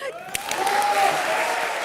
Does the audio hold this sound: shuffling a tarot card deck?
no